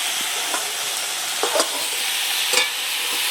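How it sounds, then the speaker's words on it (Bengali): Taro-like gourd vegetable being stirred and cooked uncovered in a pan, giving a continuous bright sizzle with a few scraping strokes of the spatula against the pan, close and fairly loud. "আর এভাবে নেড়ে চেড়ে সবজিটা একটু বসিয়ে নেব"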